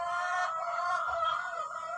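Hens cluck and murmur in a backyard flock at a mother's home in Thailand, a close, steady chorus of soft clucks and squawks from several birds with little else around.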